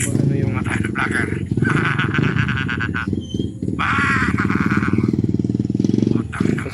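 Motorcycles running nearby on a Philippine street, a continuous loud engine drone with rising revs under steady talk from a man close by, the noise surging again toward the end.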